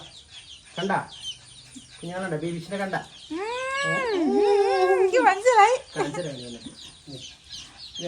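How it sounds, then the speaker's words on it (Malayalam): Hens cluck and squawk in bursts close by, mixed with brief bits of human talk. "ഇത് ഞാൻ വളർത്തുന്ന എന്റെ കോഴികളാണ്"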